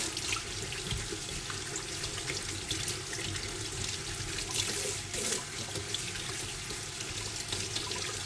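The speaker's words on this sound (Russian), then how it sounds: "Я сейчас холодной водой просто мою, чтобы жестко было все." Felt being rinsed under a cold running tap in a sink during felting of a kokoshnik tiara, a steady continuous rush and splash of water close by with no talk.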